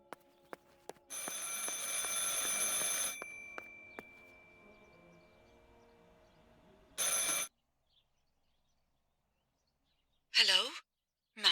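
An old telephone rings in the horror game Martha Is Dead: a long ring, then two shorter bursts separated by near silence, moderately loud and close.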